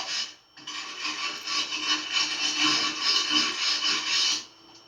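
A brass wire brush scrubs oxidation off metal before welding, a continuous loud raspy scouring lasting about four seconds that starts and stops abruptly, with no talking.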